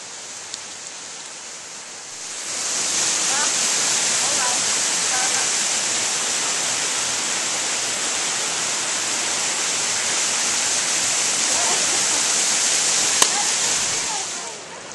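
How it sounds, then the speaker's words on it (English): Running water pours at a gold-panning water wheel in a canyon near an old mine, a broad steady rushing hiss that swells in after a quiet start and holds loud and even. "Okay, here is a water wheel for panning for gold."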